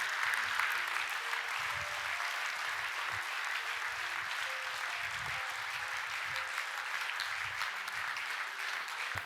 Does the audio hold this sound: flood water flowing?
no